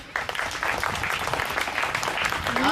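A group of children at a Mysore children's home applauds in a dense, continuous burst of claps from start to finish, with a brief voice rising near the end.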